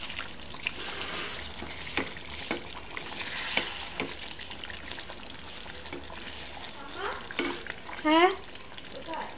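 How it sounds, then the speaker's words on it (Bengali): Chicken meat sizzles while being stirred in a pan, with a steady frying hiss and scattered scrapes and clatters. A short spoken word and a brief higher voice-like sound come near the end. "এই যে এখানে মুরগি মাংসটা একটু নাড়া দিচ্ছি।"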